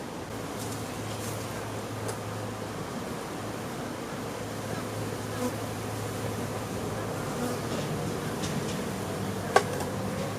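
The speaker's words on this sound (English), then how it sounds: "Notice how just a little bit of smoke will get the bees to go back down in." A steady, dense buzzing of many honey bees hovering close by at an open hive, continuous and even throughout with a faint low hum beneath.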